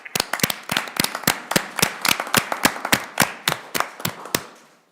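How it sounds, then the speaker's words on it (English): Attendees at a school board meeting give a round of applause: about twenty distinct, fairly close claps in a loose steady rhythm from a small group, tapering off at the end. "we'll give you a big round of applause"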